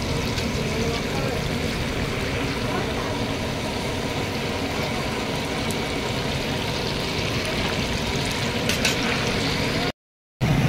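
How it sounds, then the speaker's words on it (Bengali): Pieces of pointed gourd (potol) fry in hot oil for a doi potol curry, a steady dense sizzle with faint clinks, broken by a brief silent gap near the end. "এইভাবে সব পটলগুলো ভেজে নেব"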